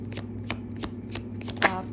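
Tarot cards being shuffled, a quick series of close riffling bursts at a steady beat over a low constant hum.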